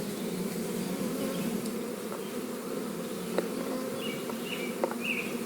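Angry bees swarm at an opened hive with a dense, constant buzz, close and loud throughout, with a few faint clicks on top.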